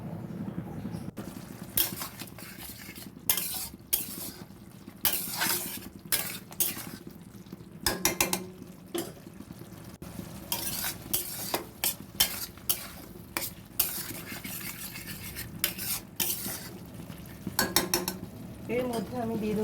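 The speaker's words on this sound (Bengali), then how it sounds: "একটু কষার পরে আমি মোচাটা দিয়ে আরও ভালো করে কষবো।" Banana flower being stir-fried in a pan, a spatula scraping and clattering in irregular bursts over a soft ongoing sizzle, close and fairly quiet.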